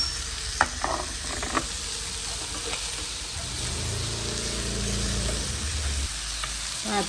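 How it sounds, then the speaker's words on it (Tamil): Chicken frying in a little oil in a pan, stirred with a ladle: close sizzling hiss with scattered metallic clinks and scrapes from the ladle, growing louder midway. "இனி அகப்பியால் மெல்லலாம் கிளற போகிறோம்."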